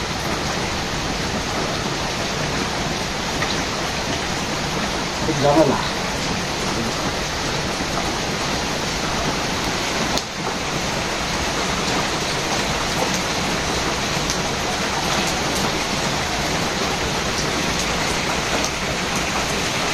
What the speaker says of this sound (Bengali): যেভাবে বৃষ্টি নামছে